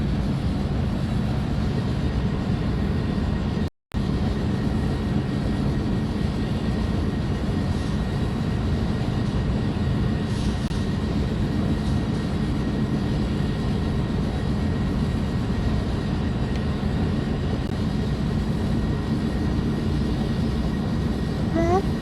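Train engine running at full throttle in the Open Rails train simulator game, a loud, steady, dense engine roar that continues unbroken apart from one instant dropout near the start, with no voices.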